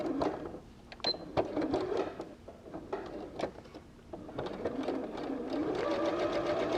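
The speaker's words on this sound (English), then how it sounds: "so that I can sew that seam in a minute" Sewing machine stitching a seam through the lining fabric of a small triangle fabric pouch, with bursts of rapid mechanical stitching broken by short pauses, running steadily and close by, no talk.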